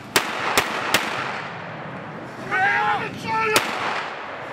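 Sharp gunshots from military training ring out as three quick shots, then a pause and one more, with someone shouting commands between them.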